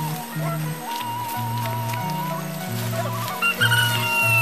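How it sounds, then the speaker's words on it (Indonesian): Chickens cluck repeatedly near a hut in a Baduy village, a close, rhythmic series of short fowl calls with a few higher squawks toward the end, over faint outdoor background. "Nih, suara ayam udah mulai kedengeran."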